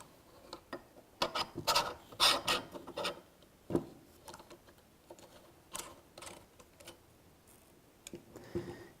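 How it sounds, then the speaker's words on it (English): 15mm rods slid into the slots of a Stratus camera cage for a Sony a7 III, then tightened. Close, quiet scraping and rubbing metal sounds with small clicks, in short bursts separated by pauses, with no talking. "We're going to go ahead and slide them into the slot here, and then tighten it."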